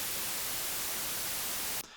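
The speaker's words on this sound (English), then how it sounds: "noise, or white noise rather, is every single frequency played at the same time at the same level." Steady, loud broadband white noise used as a test signal for mixing, a constant hiss that holds evenly across the whole range before cutting off abruptly near the end.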